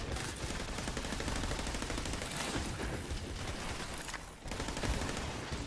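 Rapid, continuous gunfire like an anti-air turret in the video game Borderlands 3, a dense, loud barrage with a short dip before it resumes.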